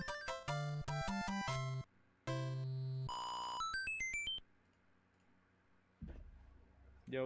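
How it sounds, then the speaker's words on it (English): A timer alarm beeps in rapid electronic bursts and rising tone runs, loud and close, then stops. After a short lull, a duller noise follows. "was my timer going that entire time?"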